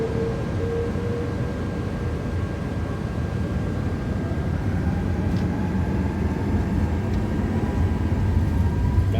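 Lufthansa Airbus A330 engines roar at flex takeoff thrust on Frankfurt's runway 25 center in a flight simulator, a steady broad rumbling hiss with a faint whine, continuous and unbroken.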